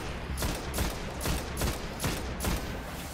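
Rapid gunfire rings out in Destiny, a rhythmic string of sharp, loud shots spaced evenly about every half second, close and uninterrupted.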